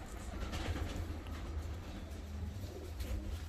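Fancy costume pigeons, including black-capped balloon pigeons, coo in low, throaty, overlapping murmurs at close range, a continuous soft warble with no talking.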